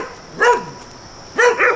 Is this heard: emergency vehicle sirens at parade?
no